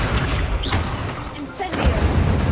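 An Incendio fire spell effect in a Harry Potter-style wizarding video game: a short booming burst of flame with whooshing crackle, layered under a voice calling out over game sound.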